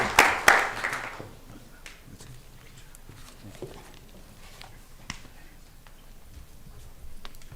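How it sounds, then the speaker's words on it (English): An audience at a Texas Board of Criminal Justice meeting breaks into a short burst of applause that fades within about a second, leaving a quiet hall with scattered faint knocks and shuffles. "another round of applause"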